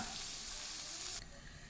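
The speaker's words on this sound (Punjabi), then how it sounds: "ਹੁਣ ਲਾਉਂਦੇ ਆ ਮਟਰ ਪਨੀਰ ਦੀ ਭੁਰਜੀ ਨੂੰ ਤੜਕਾ" Tadka for matar paneer bhurji crackles in hot oil in a pan, a steady dense sizzle that runs loud and close before dropping abruptly to a quieter fry near the end.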